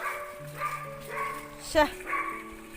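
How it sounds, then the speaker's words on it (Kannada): A nearby dog gives a series of short, tonal yips and whining barks, with a sharper bark in the middle. "ನಮ್ಮ ಹುಲ್ಲು ತಿನ್ನುವ ನಾಯಿ ನೋಡಿ"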